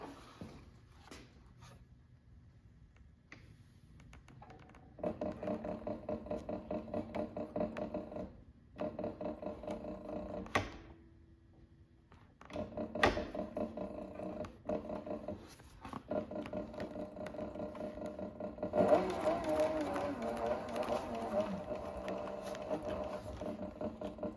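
A sewing machine stitches a leather tool roll in bursts of rapid rhythmic needle clatter, several runs separated by short pauses and a brief mechanical whir, close and moderately loud.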